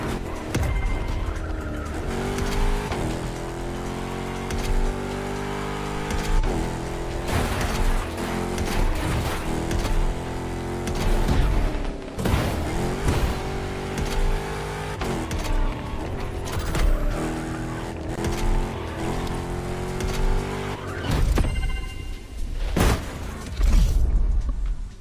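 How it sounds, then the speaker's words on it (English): A Ford F-150 Raptor high-performance pickup truck races in The Crew Motorfest video game, its loud, steady engine roar running throughout with tire squeals and skids over a continuous musical backdrop. "A high-performance pickup truck by Ford. The F-150 Raptor."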